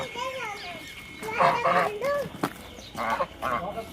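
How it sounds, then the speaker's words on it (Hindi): Ducks on a village cattle farm give a few loud honking quacks in clustered bursts, mixed with other poultry calls and some voices nearby. "ये देखें जी बतखें"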